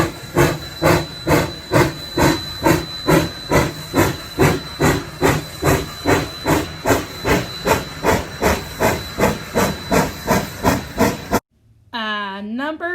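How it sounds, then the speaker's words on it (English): Loud rhythmic chuffing and hissing of a steam locomotive, steady regular beats pounding close by, followed by a short burst of a steam whistle. "a steam locomotive"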